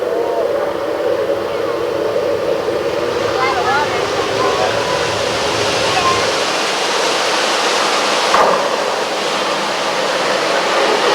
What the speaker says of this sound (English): There's a flash flood coming down the hill.